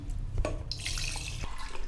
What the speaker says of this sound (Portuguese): Aqui embaixo eu vou colocar a água